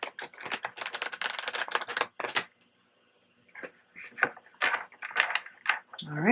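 Tarot cards are shuffled by hand in quick, riffling bursts of crisp flapping and snapping, with a brief pause partway before the card noises resume.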